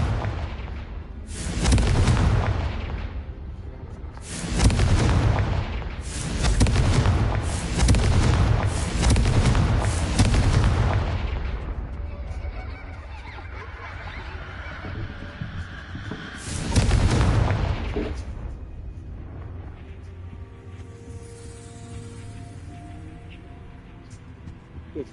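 Repeated fiery spell blasts from the Confringo curse in Hogwarts Legacy, a series of booming bursts clustered in quick succession, then a lull before another loud blast, with a quieter rumble trailing off at the end.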